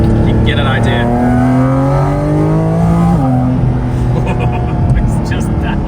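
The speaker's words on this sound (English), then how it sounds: "what this flat six sounds like when there's no traditional bulkhead or firewall between you and the engine" Flat-six engine of a new Porsche 911 revving loudly up and down in rising and falling sweeps, heard from inside the car with no firewall between cabin and engine, with some voice sound mixed in.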